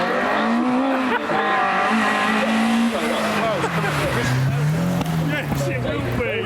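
A rally car with a 1.9 engine runs hard at the Prescott speed hill climb, its engine note rising and falling through gear changes, with tyre squeal, while a commentator talks over it.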